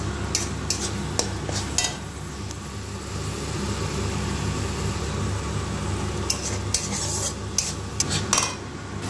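Spice masala for a fish curry being stir-fried in oil in a pan, giving a steady low sizzling hiss under a constant background hum, with a few sharp utensil clicks near the start and end.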